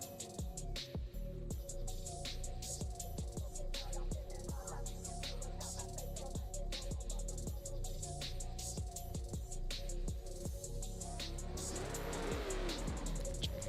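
Drift cars in a virtual drift racing game hold a steady, droning engine note with rapid mechanical ticking, and tires squeal briefly near the end.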